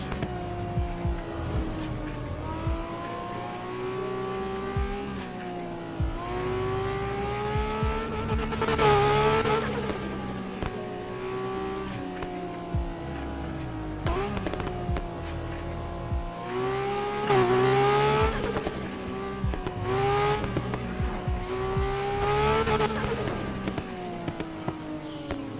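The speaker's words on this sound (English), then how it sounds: "Pop sounds so good on the car, bro." Engine of a racing car in a video game roars and swells through repeated rising and falling gear sweeps, with tire squeals, across about twenty-five seconds and no voices.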